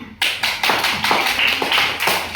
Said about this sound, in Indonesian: ayo kita beri tepuk tangan untuk kelompok yang sudah maju.